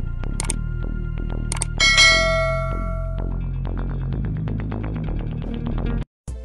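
Notification bell sound effect, bright ringing dings and clangs struck in a quick series over a low steady hum and throbbing pulse, loud and close, cutting out abruptly near the end.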